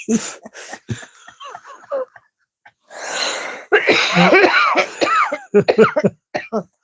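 A woman coughs in a series of harsh, breathy bursts after a fit of laughter, close to the microphone, with short gaps between coughs and some throat clearing mixed in.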